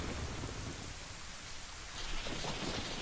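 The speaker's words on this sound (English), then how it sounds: "raining intensifies. Dun dun dun, and lightning." Steady heavy rainfall with rumbling thunder swelling underneath in The Legend of Zelda: Ocarina of Time, a dense continuous wash of rain that grows louder near the end, with no talking.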